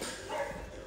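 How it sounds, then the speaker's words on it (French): Recorded dog bark from a children's farm-animal sound book, a short electronic woof-and-yip sound heard close and fairly loud, with a brief peak at the very end. "Ah non, c'est pas un maou, c'est un chien."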